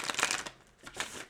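Tarot cards being shuffled by hand in two bursts of papery riffling and sliding, close and fairly quiet, with a short pause between them and no talk.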